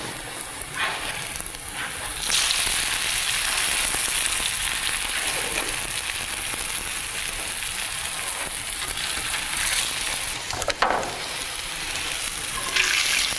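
Southern fried cornbread batter sizzles in hot grease in a pan, a loud, steady crackling fry that flares briefly a few times.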